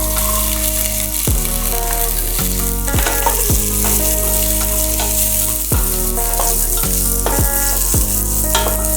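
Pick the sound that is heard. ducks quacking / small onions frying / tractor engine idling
small onions frying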